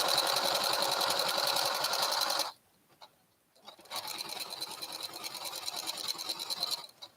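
Sewing machine stitching a fabric headband, a fast steady whir that cuts out for about a second and a half, then resumes slightly quieter with a light back-and-forth stitch rhythm.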